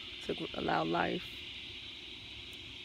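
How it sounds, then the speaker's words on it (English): Cicadas in an outdoor garden make a steady, continuous high drone that runs through the whole stretch, faint and in the background under a man's speech. "I know y'all hear the cicadas in the background."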